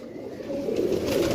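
Pigeons cooing close by, a soft steady run of low rolling coos that swells slightly toward the end, with no voices.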